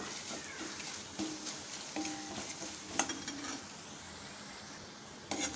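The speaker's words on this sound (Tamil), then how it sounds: "கடலை மாவு எண்ணெயிலே வந்து கொஞ்சம் நேரம் நம்ம அப்படியே வதக்கிக்க போகிறோம்" Gram flour fries in oil in a pan, giving a soft, quiet sizzle broken by light scraping strokes from stirring at irregular intervals, with no voices.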